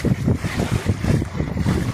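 Strong wind buffeting the microphone in rough, repeated gusts, with a low rumbling roar and no speech.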